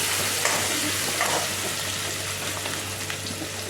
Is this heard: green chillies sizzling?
yes